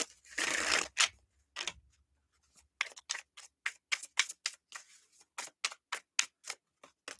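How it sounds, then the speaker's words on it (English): Fortune cards are shuffled by hand during a live reading: a soft riffling burst, then a rapid run of crisp, evenly spaced flicks and snaps, close and quiet, with no talking. "let's give these a shuffle"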